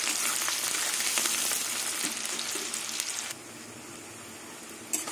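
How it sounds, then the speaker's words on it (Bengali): Onions frying in a pan until reddish-brown, a steady close sizzle with crackling that drops to a quieter, softer hiss partway through, with a brief clatter near the end. "পেঁয়াজটা লাল লাল করে ভেজে নেব,"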